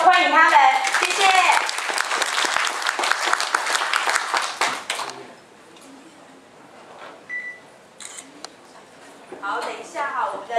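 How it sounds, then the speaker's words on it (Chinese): Lively audience applause greeting a qipao and Thai dance show at a stage event, loud and dense for about five seconds, then fading to quiet room noise with scattered small sounds and brief talk near the end. "我们给他以热烈的掌声欢迎他们"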